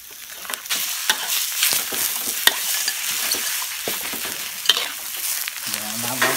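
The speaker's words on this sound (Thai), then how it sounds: "เติมเครื่องหอมแล้วเอาเนื้อปลาลงไปครับเนื้อปลาเลยผัดเลยครับ" Minced fish and aromatics stir-frying in a hot pan for a Thai fish larb, a steady loud sizzle broken by frequent scraping spatula strokes and clacks, close up with no talking.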